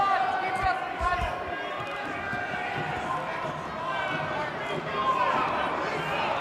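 Arena crowd at a Big Ten college wrestling dual between Ohio State and Wisconsin, a steady roar of cheering and chatter filling the hall with a few thumps and swells, sustained throughout.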